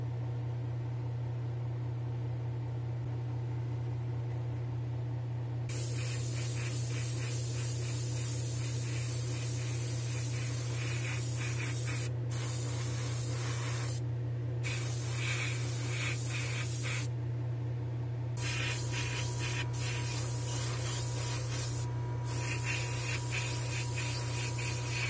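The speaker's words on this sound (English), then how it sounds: "Alright, I'm ready to go spray this red stripe," Spraying a red stripe onto a diecast custom van in a spray booth: long loud hissing bursts of airbrush spray, starting and stopping several times over a steady booth fan hum.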